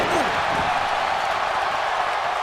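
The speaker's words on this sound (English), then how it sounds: "Some of the crowd in Detroit booing Samoa Joe" A large arena crowd in Detroit in WWE 2K18 booing Samoa Joe, a steady, dense roar of voices sustained throughout, with no clear peaks or breaks.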